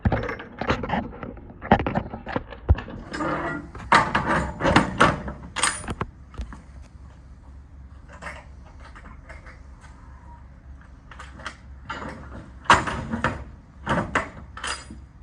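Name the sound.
trailer doors and liftgate being closed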